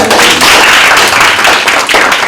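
Dense, loud clapping from a crowd, sustained and steady throughout as a burst of applause.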